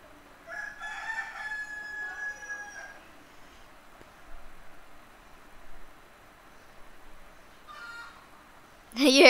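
Chickens in Minecraft make a clear crowing call early on, followed by quieter intermittent clucking sounds against a near-silent background, ending with a loud burst.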